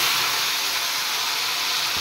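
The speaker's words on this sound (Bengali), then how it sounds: "এবার আমি বয়েল করে রাখা গাঁটকচু আর ওল একসাথে ভেজে নিচ্ছি" Boiled taro and elephant foot yam frying in hot oil, a steady loud sizzling hiss with no breaks from start to end.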